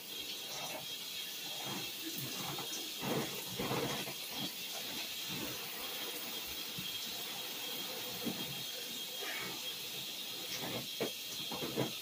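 A shower runs while long hair is wetted: a steady broadband hiss of falling water, close and continuous, with soft splashes and brief bumps throughout.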